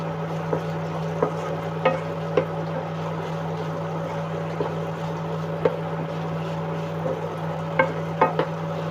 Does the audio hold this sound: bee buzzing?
no